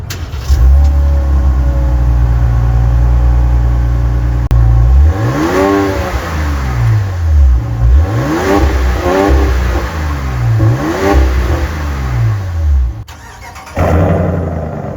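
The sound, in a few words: 2026 Ram 1500 5.7 Hemi performance exhaust revving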